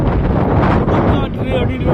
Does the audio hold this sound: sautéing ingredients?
no